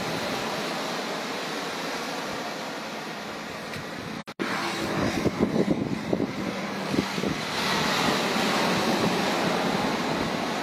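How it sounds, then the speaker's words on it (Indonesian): Ocean waves washing onto the beach at Pangandaran on a calm afternoon, a broad rushing surf that briefly drops out, then returns in uneven surges and settles into a steady roar. "menikmati suasana ombak dan mendengar deburan ombak yang saat ini cukup tenang"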